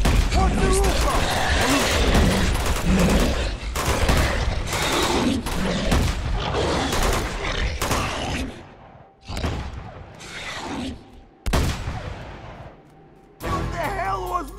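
Gunfire in the Uncharted 2 video game: dense, loud volleys of shots and booming impacts with shouted voices over the fight, thinning into separate bursts and short gaps toward the end.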